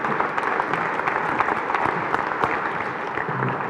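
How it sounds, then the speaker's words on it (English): An audience at a corporate panel event applauds as guests walk onto the stage, a dense, even wash of clapping sustained for several seconds without letting up. "Can we have a round of applause as they come on up?"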